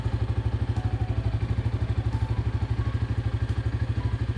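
A Sigma 250 motorcycle with a stock exhaust idles close by, its engine thumping in a fast, even, steady rhythm with a low rumble and light mechanical clatter on top.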